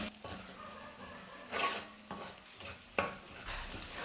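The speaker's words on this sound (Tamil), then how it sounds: "ஸ்டவ்வை லோ ஃப்ளேமில் வச்சுக்கிட்டே 1 நிமிஷத்துக்கு நம்ம நல்லா வதக்கி விட்டுக்கலாம்" Masala sautéed and stirred in a pan over a low flame while making chilli kothu parotta, with soft scraping strokes and a few sharper clinks of the spatula against the pan over a faint background hiss.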